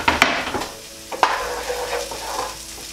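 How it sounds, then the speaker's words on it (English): Garlic sautéing in a pan with onions for an aubergine masala, a soft continuous sizzle broken by a few sharp spatula scrapes and taps, close and without talk. "you can then add the garlic as well and saute for a further 2 minutes or so"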